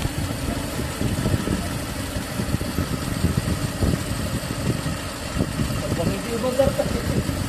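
A Mitsubishi L300 engine with an overflowing carburetor, just adjusted, idles at a steady, close, rumbling pace, while someone talks over it.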